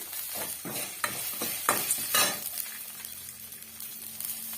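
Brinjal chutney ingredients sauté in a pan as dried red chillies are added: soft sizzling under several distinct scraping stirs and light clinks of a utensil against the pan, close and fairly quiet, with no talking.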